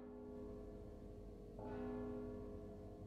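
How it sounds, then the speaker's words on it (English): A deep church-style bell tolls in the stealth video game Mark of the Ninja, a faint, sustained ringing tone with a single fresh strike partway through, humming over a quiet ambient background. "Don't you hear the bell?"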